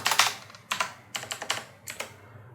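Computer keyboard typing in short bursts of close, crisp key clicks, separated by brief pauses, with no voices.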